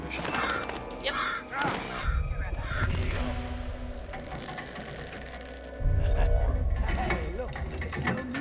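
Crows caw repeatedly in Middle-earth: Shadow of Mordor, harsh calls mixed with mechanical clanking and game sound effects, with voices speaking over parts of it.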